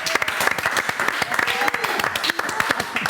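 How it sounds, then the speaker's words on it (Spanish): Dense, close applause fills a hall at a philosophy master class, with a voice faintly heard beneath the clapping. "Lo recibimos con un fuerte aplauso."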